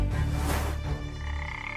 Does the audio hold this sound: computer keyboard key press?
no